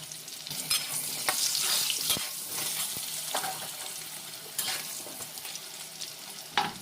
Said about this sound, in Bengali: হলুদ দিয়ে ভেজে নিচ্ছি আলুটাকে সুন্দর করে একটু লাল লাল করেই ভেজে নেবো